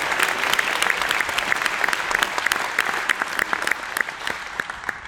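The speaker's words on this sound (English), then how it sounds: "Go ahead, give her applause." An audience at a 2014 CB-East high school band concert introducing graduating seniors breaks into steady, dense applause that holds at full volume throughout, with no voices over it.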